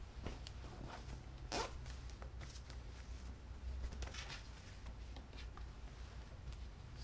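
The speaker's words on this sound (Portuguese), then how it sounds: "destacar aqui o zíper e abrir, ó" A zipper is pulled open along a handmade fabric toiletry box sewn from scrap cloth. It gives a few close, quick rasping runs over a soft background hiss, with no talking.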